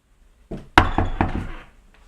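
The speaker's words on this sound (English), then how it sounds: "I can hear them banging on my door now" A quick series of loud, heavy bangs on a door, about five hits in a rapid uneven burst, close by and then falling silent.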